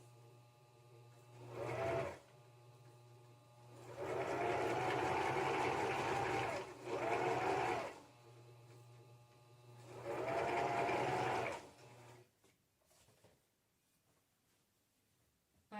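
A sewing machine stitches fabric and yarn for a cozy cowl in three runs of steady, close mechanical whirring, short then longer, separated by pauses with a faint background hum and no talking.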